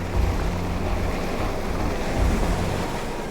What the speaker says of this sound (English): some large waves coming in and they were pretty much at our level